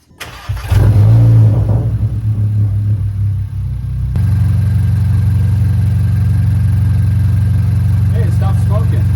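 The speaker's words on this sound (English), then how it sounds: "So we're gonna start it again to get those juices flowing inside the turbo." A car engine with an IS38 turbocharger cranks and catches, then settles into a loud, steady rumbling idle that swells as it revs, close by.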